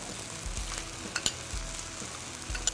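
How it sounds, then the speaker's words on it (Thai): Tamarind water goes into a boiling sauce with pork and softening pork skin for Korat-style stir-fried noodles, giving a quiet, steady sizzle and bubbling with a few sharp stirring clicks and scrapes. "น้ำซอสเดือดแล้ว ผมก็จะปรุงรสเพิ่มโดยการที่ใส่น้ำมะขามนะครับ"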